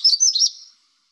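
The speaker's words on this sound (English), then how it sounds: "This is the magnolia warbler, beautiful black necklace." A magnolia warbler gives a single short, clear, high-pitched song phrase of quick sweet notes, close and alone, fading out within a second.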